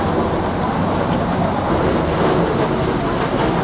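Heavy rain pours steadily as a dense, unbroken hiss, loud and close, with a deep rumble beneath that suggests a thunderstorm, and no voices over it.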